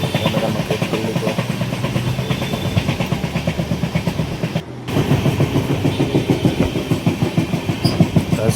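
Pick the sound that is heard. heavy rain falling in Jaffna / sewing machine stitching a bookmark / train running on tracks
train running on tracks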